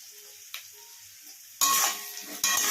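Spices with turmeric and chilli powder being stirred into a frying pan for chilli chicken, a loud broadband scraping sizzle bursting in after a quiet start and continuing to the end.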